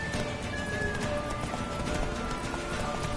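Roach, a horse in The Witcher 3, gallops at a steady pace with a continuous rumble of hoofbeats, set against a dense, busy game soundscape that hums and shifts throughout.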